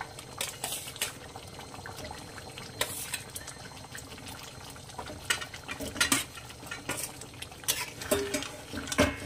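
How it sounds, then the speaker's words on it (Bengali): Fried katla fish pieces going into a bubbling Bengali curry pan and being stirred, with irregular clinks and scrapes of a utensil against the pot over a soft simmer, close and without speech. "এবার আমি এখানে ভেজে রাখা মাছগুলো অ্যাড করে দেবো"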